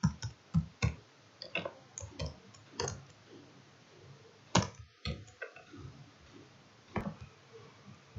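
Keys clatter on a computer keyboard as a short command is typed, irregular clicks in quick bursts with brief pauses, close and clear in a quiet room with no voices.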